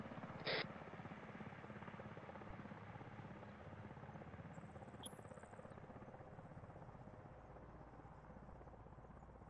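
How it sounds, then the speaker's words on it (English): A helicopter in the video game ARMA 3 drones steadily with a low, thumping rotor beat, holding at a constant distance throughout, with a brief high blip near the start. "Helicopter coming."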